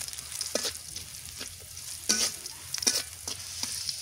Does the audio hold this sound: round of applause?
no